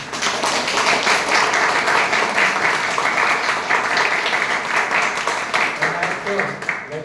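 A Toastmasters meeting audience in Baroda breaks into sustained, dense applause, many hands clapping together at close range with voices mixed into it.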